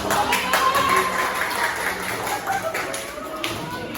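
Classroom applause as students clap for a group about to present during a practical teaching exam, a steady patter of hands lasting several seconds, with voices murmuring underneath.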